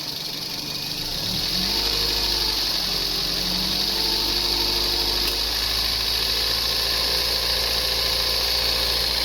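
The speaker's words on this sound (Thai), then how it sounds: "ลองเล่นเครื่องเลยครับ" A Toyota Vios with 150,104 km on it idles after starting, its engine settling into a steady, moderately loud hum with a high whine, unbroken and close.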